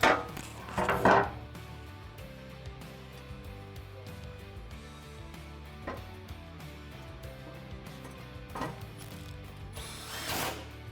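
A ratchet clicks as it tightens bolts on a Ford F150 Raptor during an intercooler install, with quick bursts of pawl clicking at the start and a few short, fairly faint bursts spaced through otherwise quiet mechanical background.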